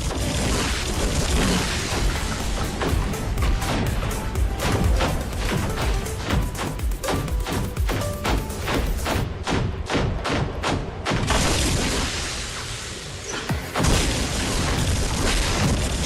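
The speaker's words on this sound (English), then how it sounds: "I'm doing immense amounts of damage with the built-in shotgun here." A robot's built-in shotgun fires in the mech battle game War Robots: rapid, heavy booming thuds in dense bursts over a continuous rumble of battle noise, with a brief lull before firing resumes.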